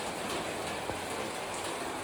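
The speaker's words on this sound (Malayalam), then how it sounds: "എന്നാ മഴയാ നോക്കേ സൂപ്പർ മഴ" Rain falls steadily in a dense hiss with no pauses. No one speaks, and the downpour stays even and moderately loud.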